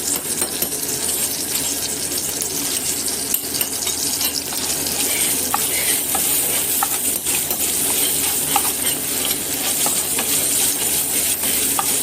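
Garlic, cumin and asafoetida fry in a pan with a steady sizzle, punctuated by scattered light clinks and scrapes of a utensil stirring against the metal.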